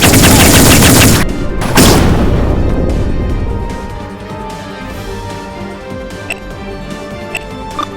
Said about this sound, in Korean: 아틸러리 모드 발사